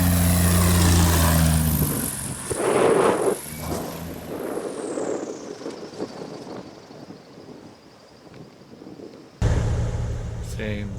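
Small propeller airplane approaching a gravel bar in Washington, engine drone loud at first, then fading and wavering under rushing wind noise before returning abruptly near the end.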